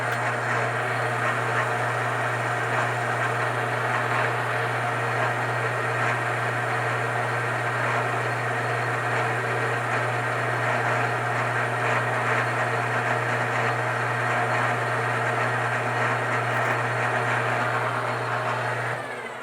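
A metal lathe running on power feed while machining a muzzle brake for a custom 300 PRC rifle gives a continuous mechanical drone with a strong low hum, steady and fairly loud for the whole stretch, with no voices.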